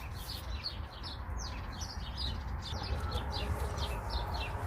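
Birds chirp repeatedly in short, high calls over a steady outdoor background hum in a vegetable garden, moderately faint and continuous throughout.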